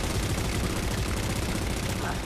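Dense, continuous gunfire in Halo 4, rapid overlapping shots forming a loud, unbroken barrage.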